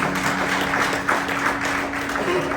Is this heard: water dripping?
no